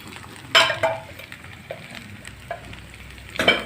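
Onions and carrots being sautéed in a pan give a soft frying sizzle with a few louder utensil clinks and stirring scrapes near the start and end, close by and with no talk.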